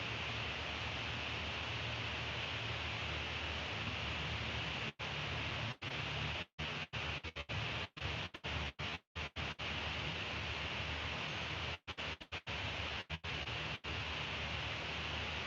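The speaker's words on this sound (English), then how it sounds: "You can hear the rain." Steady rain falls outside as a dense, even hiss that fills the whole stretch, briefly broken by a few short dropouts.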